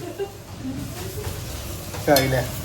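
Biryani stirred and cooking in a large metal cooking vessel, with close scraping strokes and a soft underlying sizzle, plus a louder metallic scrape near the end and faint voices in the background.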